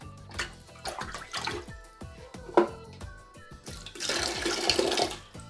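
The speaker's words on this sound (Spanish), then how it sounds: "Vuelvo a introducir un poco de agua. Que esté ojalá tibia." Warm water splashes and pours into a fish tank being cleaned, rising to a loud gushing burst near the end over a background with faint tonal sounds.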